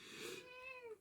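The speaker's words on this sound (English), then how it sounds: "I'm really hoping the meow comes off on the recording" A house cat gives a single short meow, rising then falling, quiet and close, heard alone.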